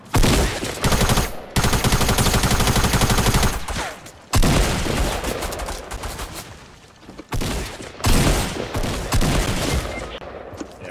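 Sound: gunfire in Fortnite video game

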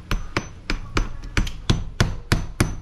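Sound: hammering roofing nails into window flanges

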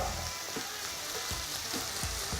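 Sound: onion, garlic and sausage frying in a pan

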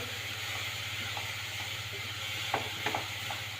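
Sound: dry roasting in a pan without ghee or oil

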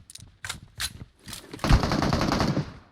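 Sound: machine gun fire in PUBG Mobile video game

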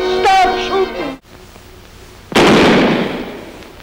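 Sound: gunfire in a film scene

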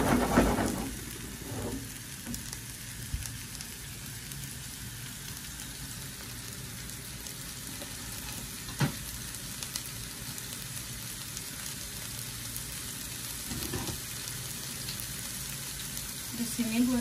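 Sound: onion and garlic frying in a pan

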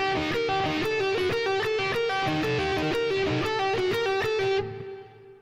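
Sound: blues guitar lick variation in a different position

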